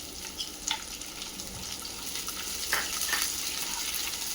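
Onion sizzles in a pan with curry leaves and chilies, a steady frying crackle with occasional stirring scrapes and clinks, close and moderately loud, with no talk.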